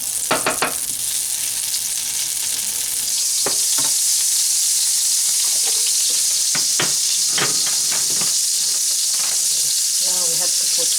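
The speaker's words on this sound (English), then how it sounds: "So now we're gonna saute those veggies, and I'm using a vegetable oil" Vegetables sauté in hot vegetable oil and margarine for pancit, a constant close sizzle broken by scraping stirs and occasional crackling bursts, with faint voices now and then.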